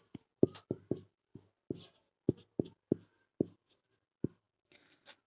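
Chalk or marker strokes on a classroom board during a Hindi grammar lesson: a series of sharp, close taps and short scratches in an irregular rhythm, with no talking.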